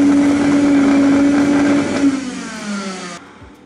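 A faulty Metabo ASA 25 L PC vacuum cleaner motor runs with a loud, steady whining hum, falters and drops in pitch after about two seconds, then cuts off abruptly near the end.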